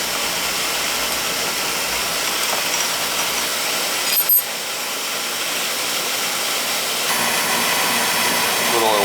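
A Peerless oil boiler's burner runs with a loud, steady roar and hiss while its oil flow is checked, broken briefly by a sharp metallic clank partway through.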